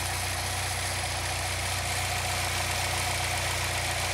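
A Saab 9-3 2.0t four-cylinder engine idles steadily right after a throttle body cleaning, giving a constant close, even hum with a faint rhythmic pulse and no speech.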